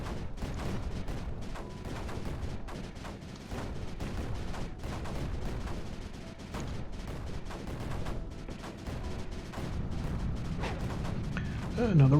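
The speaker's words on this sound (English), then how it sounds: "Another rocket just launched." Rocket launch in the strategy game Creeper World 4, part of a dense wash of rumbling, crackling booms and rapid bursts that runs continuously at a steady level throughout.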